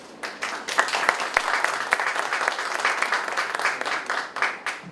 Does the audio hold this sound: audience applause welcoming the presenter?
yes